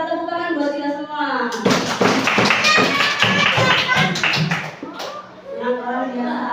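A classroom group claps hands together in a dense burst of applause lasting several seconds, with a teacher's voice talking before and after it.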